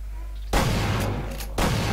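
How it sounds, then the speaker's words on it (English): A loud, close shotgun blast booms in the Half-Life 2 beta video game, followed by rumbling and then a second heavy blast, over low game background noise. "How did you not die at one shotgun shot?"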